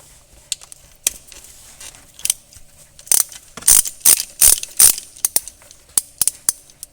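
A ratchet wrench turns a 13mm bolt on a power steering line of a Volkswagen Golf mk4 TDI, making sharp clicking bursts and rapid ratcheting runs that are loud and close, with no talk.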